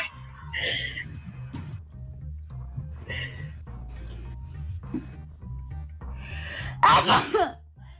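A single sharp sneeze bursts out near the end, loud and close, after a stretch of low background noise and faint murmuring.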